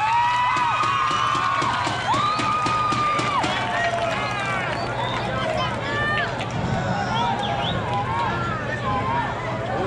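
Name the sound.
rodeo crowd applauding and cheering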